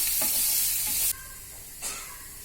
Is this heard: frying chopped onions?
yes